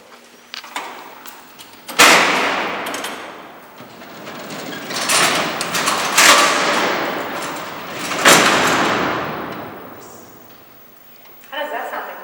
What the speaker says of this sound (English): the sound you heard echoing time and again throughout the day, throughout the cell house, was the sound of these doors opening and closing